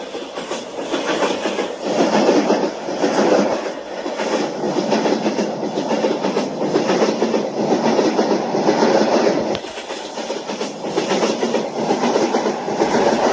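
Simulated Mahamana Superfast Express (22418, Varanasi–New Delhi) running steadily in a 3D train game, a continuous loud rolling rumble with rhythmic clickety-clack of wheels over rail joints, heard alone without talk.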